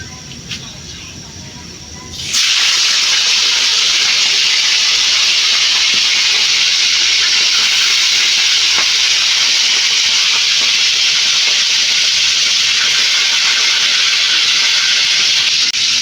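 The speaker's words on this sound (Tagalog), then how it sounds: "Grabe lang to guys kasi sumasalsik ang mga mantika sa atin." Cooking oil hisses and sizzles loudly after food drops into a frying pan, a steady, bright, spattering roar that jumps in suddenly and keeps going close up.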